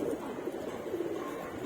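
Loft pigeons cooing, a soft continuous low murmur of throaty calls heard faintly at moderate distance with no talk over it.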